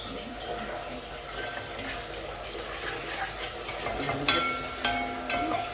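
A soft continuous sizzle of onions frying in a pan, with occasional scrapes and clinks of a utensil against the pan, fairly close, with a voice talking faintly underneath.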